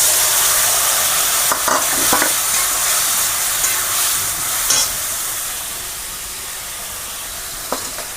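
Spice paste sizzles in hot oil with fried pumpkin in a pan for a prawn curry, a loud, continuous frying hiss close by, with a few scraping stirs and no talk.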